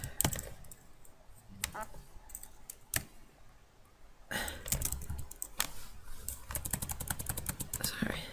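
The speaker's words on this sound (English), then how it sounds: "I'm typing up at the top" Someone types on a computer keyboard while entering a chart title in Microsoft Excel 2013, with sparse single key clicks followed by a quick burst of rapid tapping, close up, with a voice speaking softly at times.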